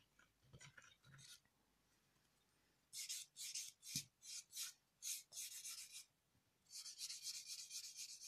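An acrylic stiletto nail is filed with a rapid rasping scrape in a series of short, close strokes, with a quiet pause and a few faint touches before the steady bursts begin.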